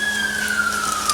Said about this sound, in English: an ambulance, yay!